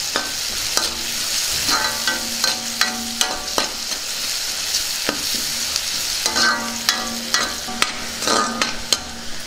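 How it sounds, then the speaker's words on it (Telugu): A spatula stirs a sizzling tempering of curry leaves and turmeric in a hot pan, with repeated scraping strokes over a steady fry hiss, close and fairly loud with no talking. "వీటి మొత్తాన్ని బాగా కలిసేలాగా కలుపుకుందాం."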